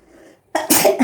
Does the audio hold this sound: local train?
no